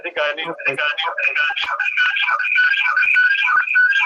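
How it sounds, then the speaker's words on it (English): A mobile phone plays a melodic ringtone during a borough council meeting, a tonal tune rising and sustaining over a few seconds, heard close and fairly loud. "got to turn off your phone."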